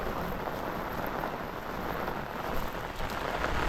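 Steady rain hissing and pattering on a surface, a constant wash of noise with no voices.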